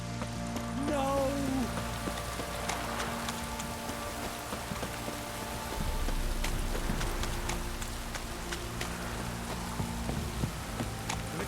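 Steady rain falls in Witcher 3, a continuous wash of drops on surfaces with low ambient rumble and scattered faint ticks and knocks across the whole stretch.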